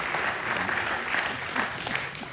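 Audience applause welcoming the mayor at the official presentation of a French Championship Enduro round, a steady wash of crowd clapping at moderate distance with no voices standing out.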